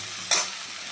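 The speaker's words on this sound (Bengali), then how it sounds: "একই সাথে দিয়ে দেবো নুন হলুদ মেখে রাখা খানিকটা কুচো চিংড়ি, ছোটো চিংড়ি, একটু ভালো করে ভেজে নেব" Small shrimp coated in salt and turmeric hit a hot pan, giving one sudden loud sizzling burst that quickly fades into a steady soft frying hiss, with no voices.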